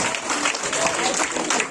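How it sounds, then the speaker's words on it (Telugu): A gathering at a satsang gift-giving event for children breaks into steady, dense applause from many hands throughout, fairly close and continuous. "ఒకసారి చప్పట్లు పట్టుకుందాం"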